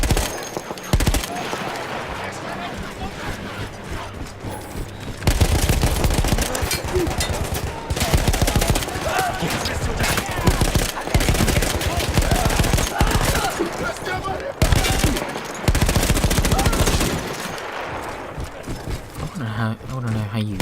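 Rapid machine-gun bursts in Battlefield 1 on PS4, with a mounted gun from World War I fighting firing loud, dense volleys in several long stretches, separated by brief pauses.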